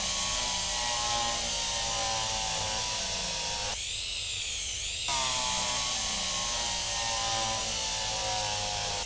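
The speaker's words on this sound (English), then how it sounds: "Drill that in there." A cordless drill runs in the Derail Valley train simulator game, giving a loud, steady mechanical whir with a brief higher-pitched ratcheting burst in the middle, close and continuous, with no talking.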